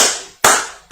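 Two sharp, loud hand claps land about half a second apart, each ringing out with a long reverberant decay, with no talking in between.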